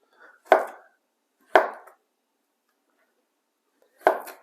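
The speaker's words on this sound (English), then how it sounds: "So this is the way I slice my plantains." A knife slicing through plantains, giving three sharp, separate cuts against a board with quiet pauses between them.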